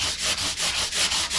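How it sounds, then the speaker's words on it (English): A fine 800-grit sanding block rubs back and forth over the fingerboard of a worn Squier Jazzmaster guitar, about eight quick even strokes, close and loud with no talk. "next thing, fine sanding block. This is about an 800 grit."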